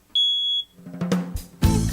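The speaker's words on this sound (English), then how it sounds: "you're not supposed to use a smoke detector when you're done cooking the eggs" A smoke detector shrieks one sharp high beep for about half a second in a kitchen after eggs are cooked, followed by muffled clattering and thumps.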